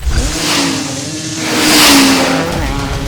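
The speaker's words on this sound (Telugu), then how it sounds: "బండి స్టార్ట్ చేద్దామా" An electric scooter idles and revs up, its pitch climbing into a loud swell before settling back to a steady hum.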